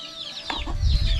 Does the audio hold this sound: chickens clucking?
yes